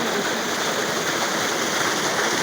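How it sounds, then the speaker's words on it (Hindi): Clear water gushes steadily from a village tube well, a loud, continuous rushing splash with no breaks, close by and alone. "ये देखिए कितना प्यारा साफ़ पानी चल रहा है यहाँ"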